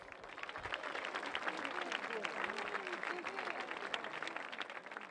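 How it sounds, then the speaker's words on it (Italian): A crowd at a 2012 music contest claps in memory of a musician, a soft, distant patter of applause sustained throughout with a faint voice audible underneath. "Dedichiamo ancora un ultimo applauso alla sua memoria."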